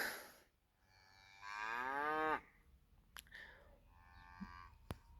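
A cow lets out a long, deep, drawn-out moo nearby, followed by a softer second lowing and a couple of sharp clicks in an otherwise quiet setting.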